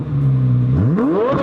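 A Corvette Z06 V8 engine idles with a deep, loud rumble and then revs up sharply, the pitch climbing steadily toward the end, close by and without talk.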